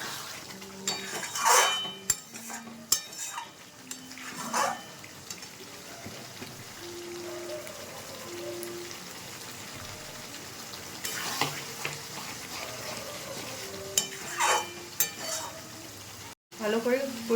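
Egg curry with boiled potatoes and capsicum sautés in a pan: a steady background sizzle broken by sharp metallic clinks and scrapes of a spatula against the pan, some in quick pairs, close and fairly quiet.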